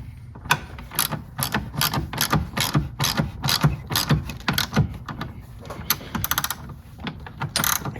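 A ratchet wrench retightens a connection on a BMW G01 X3 M40i, giving a quick, close series of sharp clicking bursts that repeat in steady strokes for several seconds.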